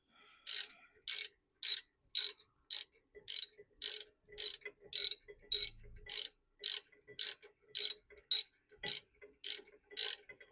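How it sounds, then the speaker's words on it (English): A ratchet tightens long brake caliper bracket bolts, giving about seventeen crisp, evenly spaced bursts of clicking, close and fairly loud, with no talk. "What I'll do is I'll torque them down a bit."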